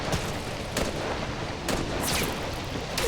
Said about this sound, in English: Taking fire now from riflemen of the Reds.